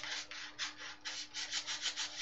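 A surface is polished by hand-rubbing, a dry rhythmic swishing in repeated strokes, close and quiet with no talk.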